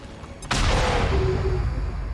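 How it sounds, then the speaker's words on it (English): A flashbang goes off in the video game XCOM 2, a sudden loud burst after a quiet half second, followed by a sustained roaring, ringing wash that stays loud to the end with no talking. "Oh, there's a flashbang."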